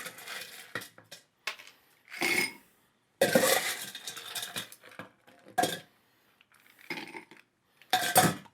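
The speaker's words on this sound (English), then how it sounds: "We are going to fill that up with ice." Ice cubes dropped into an old-fashioned glass while mixing a cocktail, several bursts of close, bright clinking and rattling separated by short silences.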